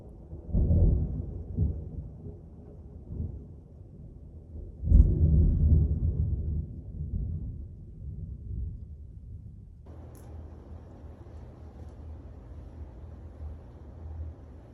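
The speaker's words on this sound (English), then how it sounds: "That was lightning. And now comes the thunder." Deep rolling thunder from a storm rumbles in two heavy swells, each fading slowly, followed by a steady low background hiss as the storm continues.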